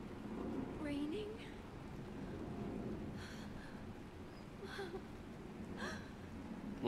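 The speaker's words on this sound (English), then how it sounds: "It is raining. It's true." Steady rain falling in Penacony in Honkai: Star Rail, a soft continuous hiss that carries on with no break, with game sounds and a few voices layered over it.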